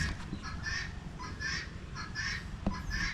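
Geese honk repeatedly in overlapping bursts, a loud flock calling close by against a rustling background, with a sharp knock near the end.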